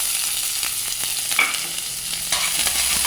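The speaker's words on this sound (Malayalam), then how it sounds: "സവോള നല്ലോണം ഇട്ടു കേട്ടോ" Garlic and chopped onion fry in a pan with a continuous moderate sizzle, and a few scrapes of stirring come through the hiss. Nobody speaks.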